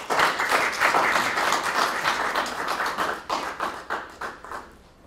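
Audience applause welcoming a lecturer to a Bible interpretation and preaching lecture, close lively clapping that thins into scattered claps and fades out at the end.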